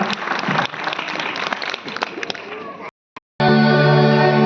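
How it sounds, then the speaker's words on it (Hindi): Crowd applause at a Christmas Eve church gathering welcoming a Baptist choir, dense clapping for about three seconds, then a short gap before music and singing begin loudly. "तो चलिए तालियों के साथ स्वागत करते हैं Saint Thomas Baptist church Khyber पास की क्वायर का"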